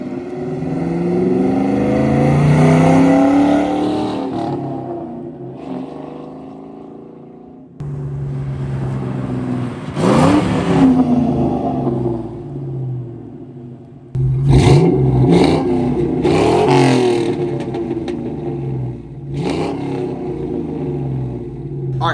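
A New Edge Ford Mustang engine with a BBK off-road H-pipe revs up hard and drops back several times, its exhaust rumbling deep and loud close by, with short bursts of throttle.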